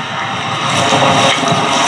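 An anti-tank missile launch in battle footage gives a loud, dense rushing roar that holds steady without a break for just under two seconds.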